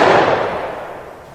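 A single gunshot in a 1914 Western film, "The Squaw Man", a sharp loud crack followed by a decaying noisy tail over about a second, heard alone.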